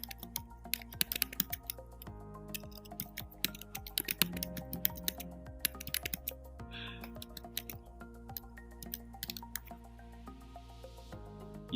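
Rapid, irregular clatter of computer keyboard keys being typed, steady and close, with no voices.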